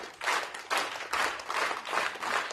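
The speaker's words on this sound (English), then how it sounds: "Big round of applause from Suryadatta Education Foundation." Audience applause at an education foundation event, dense steady clapping from a sizeable crowd, swelling in waves and filling the whole moment without pause.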